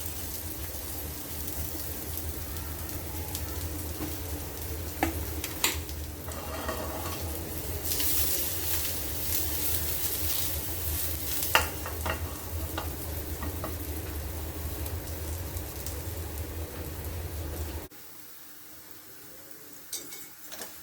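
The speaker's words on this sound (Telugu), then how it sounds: "సిమ్లో కాల్చుకోవాలి. ఇవి ఆల్రెడీ ఉడికినాయి కాబట్టి తొందరగానే కాలిపోతాయి" Sweet potato tikkis fry on a low flame in an oiled pan, giving a steady, close sizzle with soft stirring scrapes throughout that drops away sharply near the end.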